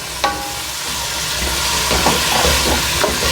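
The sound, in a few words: potatoes and peas sizzling as they are added to the pan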